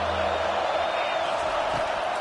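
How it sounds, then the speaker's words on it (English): Stadium crowd in a Madden football video game swelling into a steady, dense roar on third down, broad continuous noise with no clear break over the whole stretch. "Decibels rising as the crowd gets behind this defense on 3rd down."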